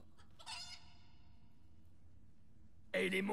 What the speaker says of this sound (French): Et les monstres tueurs sont... Des poulets ? Un poulet ?